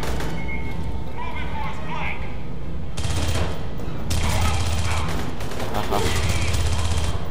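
Gunfire in the video game Aliens Colonial Marines, loud rapid bursts of automatic fire that come in waves, with a player talking over it.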